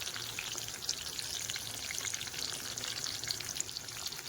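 Home-ground spices with turmeric sizzle steadily in hot oil for a red prawn curry, a continuous close frying crackle with no voices.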